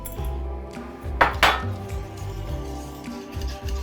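Milk being whisked into butterscotch in a bowl, quick metal clinks and rattles of a whisk against the side with a louder clatter burst near the middle.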